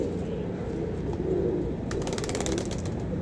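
Old domestic pigeons kept at a home loft coo in low, rolling murmurs against a steady background hum, with a faint flutter of movement late on and no talking.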